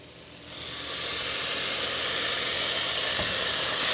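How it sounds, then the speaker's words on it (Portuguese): Water poured into a pan of rice that is already frying turns quickly into a loud, steady steamy sizzle that builds and then holds for several seconds, close and continuous. "Já vou entrar com a água."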